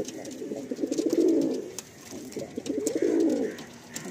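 Several Madrasi pigeons coo in a loft, two long rolling coo phrases rising and fading in turn, close and fairly loud over a faint background hum, with no speech.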